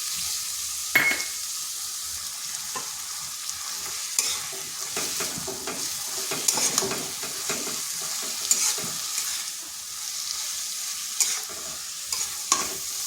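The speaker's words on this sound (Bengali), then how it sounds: "মশলাটা ভালোভাবে এই সবজির সাথে মিশিয়ে নিচ্ছি।" Pointed gourd frying in a pan while ground masala paste is stirred through it, a soft continuous sizzle with irregular spoon scrapes and clinks against the pan, fairly quiet and close, no voices.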